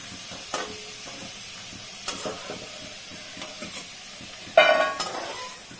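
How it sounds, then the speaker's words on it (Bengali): Lentil vadas sizzle in hot oil with a steady soft hiss, broken by scraping clicks of a utensil lifting them out and a louder crackling burst near the end. "বড়াগুলো ভাজা হয়ে গেছে"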